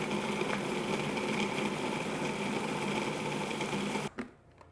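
A food processor whirs steadily as it blends sliced peaches into a smooth cream, a constant motor drone that cuts off abruptly near the end.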